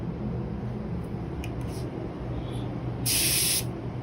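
An electrostatic paint spray gun set to a flat pattern gives a short, bright hiss of spray near the end, over a steady low background hum.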